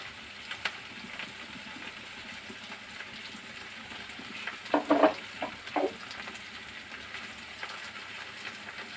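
Grated coconut and ivy gourd fry in a pan with a steady close sizzle, briefly broken by a few louder stirring scrapes partway through.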